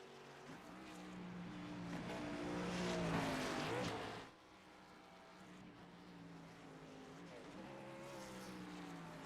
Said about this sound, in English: We're going to see Christian Budd doing some burnouts here now.